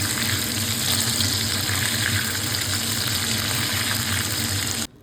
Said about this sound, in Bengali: তারপর সবচেয়ে সোজা কাজ গরম তেলে ভেজে তোলা।